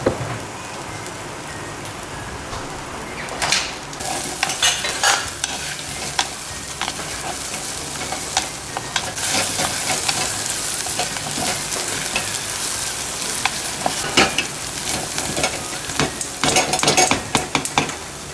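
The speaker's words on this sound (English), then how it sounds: "I think our pot is hot. I'm going to add our crushed paste." A crushed spice paste sizzles in coconut oil in a hot pot for a fish curry, a continuous loud crackle with repeated sharp scrapes and clinks of the spoon as it is stirred, no talking.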